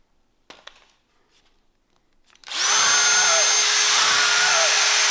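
A power drill bores with a large bit, about half an inch or 14 millimetres, through a cold air intake box for an AMG car. A few handling clicks come first, then a loud, steady, close whine that runs to the end.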